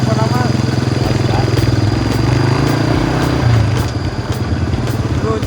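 A motorcycle engine runs close by with a steady, throbbing mid-pitched idle that rises briefly before easing, as people talk over it.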